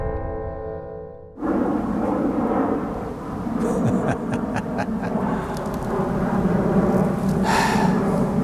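A low-flying airplane passes overhead outdoors, a loud broad rumbling roar that swells in abruptly after a quieter tonal opening and keeps droning steadily for several seconds.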